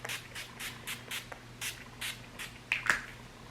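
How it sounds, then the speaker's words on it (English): Mary Kay Makeup Finishing Spray misted from a setting-spray bottle during a makeup session: about eight quick, hissing spritzes in a steady rhythm, close and clear, with no talking. "I am using the Mary Kay Makeup Finishing Spray."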